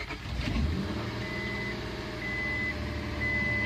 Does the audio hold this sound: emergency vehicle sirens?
no